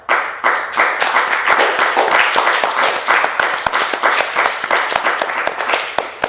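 An audience at a live comedy show claps continuously, a dense, loud patter of many hands with sharper individual claps standing out, lasting several seconds without speech.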